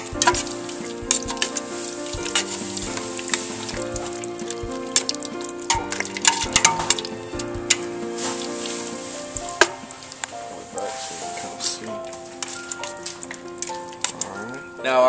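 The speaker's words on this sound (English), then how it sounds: "Put some minced garlic in there. Stir it up a little bit." Minced garlic sizzles and is stirred in a pan while making crawfish etouffee, a continuous crackling fry with scraping spoon clatter and intermittent clinks, close and moderately loud, with music playing underneath.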